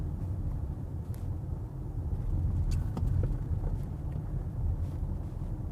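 A BMW X5 3.0d xDrive SUV crawls through Sunday London traffic, a steady low cabin rumble of engine and road noise with light wind buffeting, no voices.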